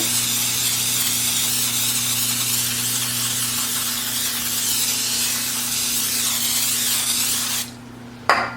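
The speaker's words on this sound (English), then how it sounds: "Now we are just going to spray the tops of them with the butter spray." A long, steady hiss of aerosol butter cooking spray on bread rolls, close and continuous for several seconds before cutting off, over a low electrical hum.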